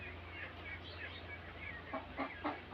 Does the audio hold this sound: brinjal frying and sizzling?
no